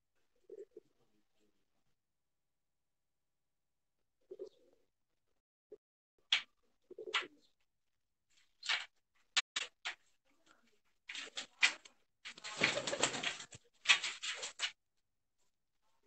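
Breeder pigeons, white and golden, coo softly in short scattered bursts in a quiet setting, joined later by brief flutters and patter.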